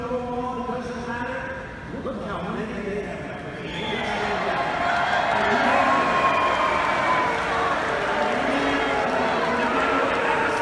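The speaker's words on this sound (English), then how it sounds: "So apparently, this crowd's booing the media" Rally crowd at a Trump event booing the press pen, a broad roaring mass of voices that swells louder after a quieter opening, with scattered shouts and whoops over it.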